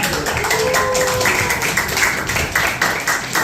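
A classroom audience applauds group 1 after their presentation, a dense, steady patter of many hands clapping together for a few seconds.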